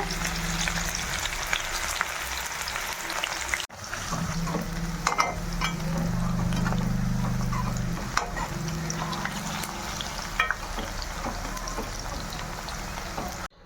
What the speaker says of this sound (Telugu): ఇందులో ఈ ఉల్లిపాయలు మాత్రం బ్రౌన్ కలర్ వచ్చే వరకు మాత్రం వేపుకోవాలి.